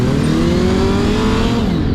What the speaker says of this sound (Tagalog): And now we are riding a 400cc as well.